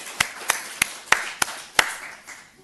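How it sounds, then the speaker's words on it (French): Around six sharp, separate claps ring out at a church service, evenly spaced and fairly quiet, more a brief patter from a few hands than a full congregation. "On peut applaudir"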